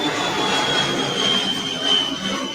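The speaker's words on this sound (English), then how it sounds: "You're going to hear airplanes going over because I'm sitting outside." A broad, steady roar of an airplane passing overhead, heard outdoors in New Jersey, fills the whole moment, swelling slightly without any voices.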